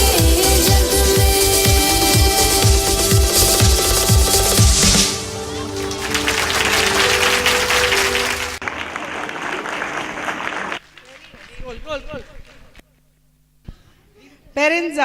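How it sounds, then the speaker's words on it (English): Applause from parents at a EuroKids Nallagandla school annual day, honoring teachers; it swells out of loud stage music, holds as a dense wash for a few seconds, then thins as a voice starts speaking over a quieter hall. "A very big round of applause for them"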